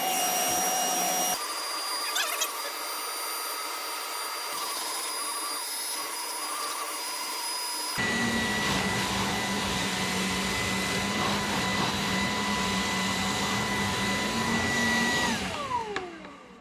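A Ryobi 18V HP spot cleaner whirs with a steady high-pitched vacuum whine as it works on marker stains in carpet, changing tone abruptly midway, then winding down at the end.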